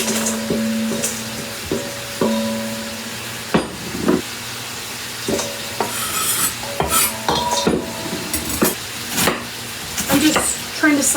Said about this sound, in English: Trying to slice it as thin as I can into shreds.